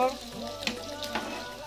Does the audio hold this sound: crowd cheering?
no